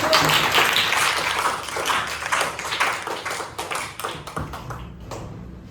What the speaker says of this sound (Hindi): मैडम चलिए एडवोकेट संतोष शर्मा मैडम के लिए तालियां बजा दें।